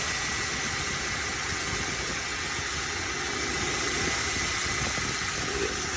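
A Toyota Hilux with the 2.7-liter 3RZ-FE gas engine idles close by in a steady, even drone while its idle screw is adjusted, with no speech.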